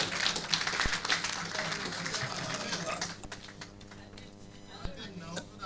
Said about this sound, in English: Let's give her a bigger round of applause.